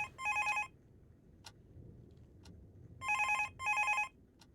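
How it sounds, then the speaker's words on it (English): A telephone rings in the horror video game Darkness Within, two paired bursts of electronic ringing separated by quiet gaps with faint clicks, loud and close with no talk. "Phone call."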